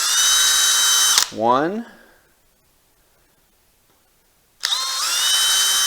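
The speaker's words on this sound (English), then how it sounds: "drill those 4 holes." A power drill whines loudly for over a second, then a voice speaks briefly; after a silent pause the drill runs again at full volume.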